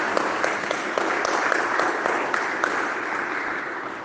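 A church congregation applauding and clapping together during a worship service, a dense, steady wash of many hands, moderately loud and sustained.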